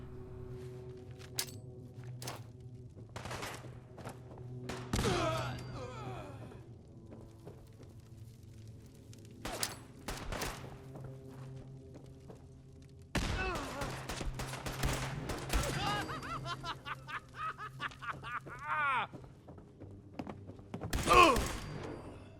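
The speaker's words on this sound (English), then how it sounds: "Alright, let's try a frag grenade over here." Gunfire and a frag grenade blast in the video game Fallout 4 during an assault on Fort Strong: scattered loud shots and rapid bursts, with heavier booming impacts, spread across a long firefight.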